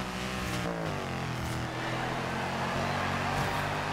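A Mercedes C63 AMG engine roars steadily in the racing game Forza Horizon 2, a loud continuous drone with slight pitch shifts as the car is driven, heard alone.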